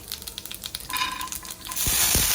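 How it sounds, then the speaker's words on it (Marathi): Cumin seeds dropped into heating oil in a pan, crackling and popping close up and then settling into a steady, brighter sizzle. "मी आता इथे तेल तापायला ठेवलं आहे जिरे"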